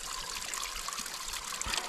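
Spring water trickles steadily out of the ground into a bottle just above a road at the snow line, a close, continuous liquid dribble with no talk.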